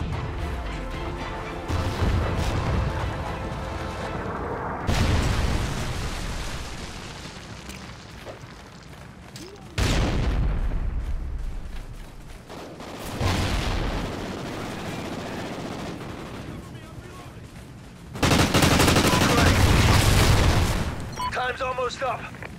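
Trinity rocket explosions in Call of Duty: Ghosts on the Octane map land as several heavy booming blasts and crashes among gunfire and loud game noise.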